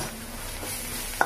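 Boiled potatoes frying with salt in a pan, stirred with a spoon, a soft steady sizzle carrying a single sharp scrape or clink of the spoon near the end.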